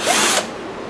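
A power drill drives a spiral fluted tap in a short, loud whirring burst that stops abruptly partway through, leaving quieter background sound.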